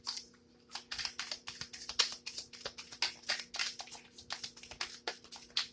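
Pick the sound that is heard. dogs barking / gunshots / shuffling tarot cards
shuffling tarot cards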